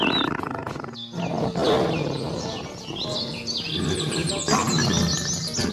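A toy tiger giving out a loud recorded roar mixed with chirping bird calls, filling the whole stretch close up without pause.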